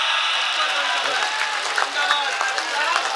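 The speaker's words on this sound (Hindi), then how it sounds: "दोनों हाथ ऊपर उठाकर ताली बजाएं एक बार।" Audience clapping at a Hindi poetry recital, a dense crowd rustle of applause with voices mixed in, steady and fairly loud across the whole stretch.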